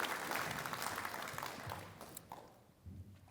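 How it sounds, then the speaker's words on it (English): Dense crowd applause at a Black History Month celebration fills the air as a loud, continuous wash of clapping that thins and fades toward the end. "So give them another well-deserved round of applause."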